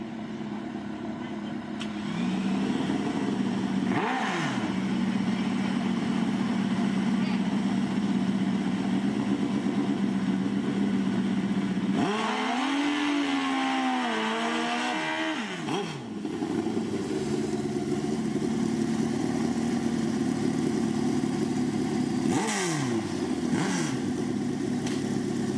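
Kawasaki motorcycle engine at a motorsport event, a steady drone interrupted by several rising and falling revs, with one louder, wavering burst of revving midway; a crowd or announcer's voice can be heard faintly beneath the engine.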